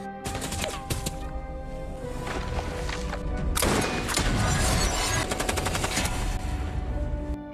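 Rapid bursts of sniper rifle gunfire crack and echo, sharp repeated shots layered over a rumbling background, loud and continuous with denser volleys toward the end.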